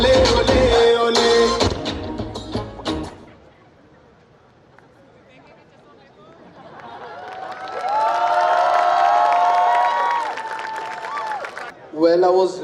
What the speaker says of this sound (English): Can we have another round of applause for them, please?